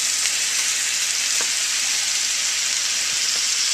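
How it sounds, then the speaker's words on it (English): Apple cider vinegar hitting a hot pan of chicken adobo, producing a loud, continuous, even hiss and sizzle with faint crackles throughout. "I'm gonna add some apple cider vinegar, probably maybe a little less than a 1/4 cup"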